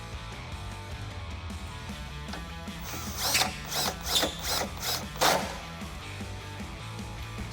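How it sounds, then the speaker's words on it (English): A Torx T40 tool tightens a bolt on a Jeep Wrangler JL tire carrier, a few close ratcheting bursts and clicks in the middle over a quiet background hum, with no speech. "we're gonna take that bolt that we took out from the factory and just thread that back in and tighten it up with that T40 Torx"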